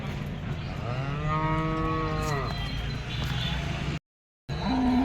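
Calf mooing at a cattle market, one long drawn-out bellow near and loud over a busy background, followed by a brief dropout and then a fainter low call.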